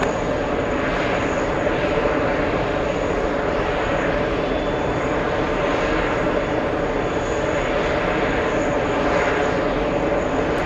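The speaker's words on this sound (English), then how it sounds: "That's the British Airways 777 flying back to London" A British Airways Boeing 777 roars through its takeoff run at JFK, a loud, steady broadband jet engine rumble filling the whole stretch without pause and without voices.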